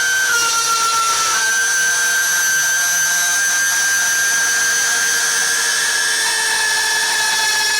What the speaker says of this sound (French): Grâce à la petite règle de guidage, on va pouvoir scier nos lattes à 3 cm.